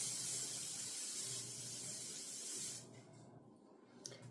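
Spray grease hisses from a can onto a 9x12 casserole dish, a steady close spray for a few seconds that then cuts off into quiet.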